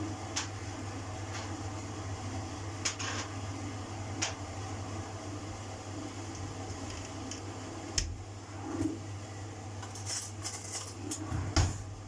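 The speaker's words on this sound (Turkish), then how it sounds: "çay bardaklarını koyalım." Tea glasses are set out in a home kitchen, with scattered light clinks and taps of glass and dishes over a steady background hum.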